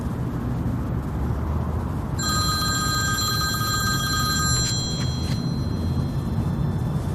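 A telephone rings with an incoming call in a quiet room, a bright electronic ring that starts a couple of seconds in and repeats for about three seconds over a low steady background hum.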